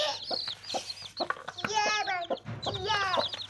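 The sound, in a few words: mother hen clucking with her chicks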